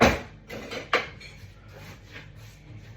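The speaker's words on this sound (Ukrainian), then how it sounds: "Тепер все це збиваємо вінчиком." A wire whisk beats a mixture for apple pancakes in a bowl, giving a few irregular metallic clinks and scrapes against the dish, close and fairly quiet.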